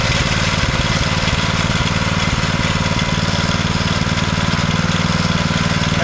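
A Pacer pump's small gasoline engine runs steadily after its choke is switched off, a loud continuous idling drone with a rapid, even firing rhythm and no change in pace throughout.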